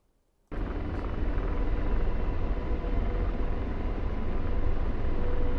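An AH-64D Apache helicopter in the DCS World flight simulator starts up abruptly after a brief silence, then holds a steady, loud, broadband rotor and turbine roar that continues unchanged to the end.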